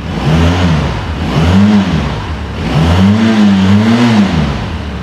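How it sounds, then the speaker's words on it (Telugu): Benelli TRK 502X parallel-twin motorcycle exhaust revving hard in two long rising and falling sweeps, close and loud with a smooth, almost inline-four wail and no talking. "ఎగ్జాస్ట్ నోట్ విన్నారు కదండి, ఆల్మోస్ట్ ఇన్లైన్ 4 సౌండ్ అనేది మనకి వస్తుంది ఒక ప్యారలల్ ట్విన్ నుంచి"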